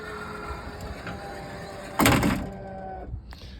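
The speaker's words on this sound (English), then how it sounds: "Door's gonna open, van's gonna kneel down, and the ramp's gonna come out." A 2017 Toyota van with a Braun mobility conversion: a loud thump as the power sliding door releases and opens, then a steady mechanical whir as the van kneels and the wheelchair ramp deploys, with a fading motor hum.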